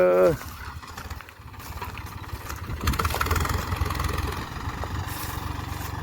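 A tractor engine idles at a farm during paddy harvest work, giving a steady low rumble that swells slightly partway through, with a brief voice at the very start.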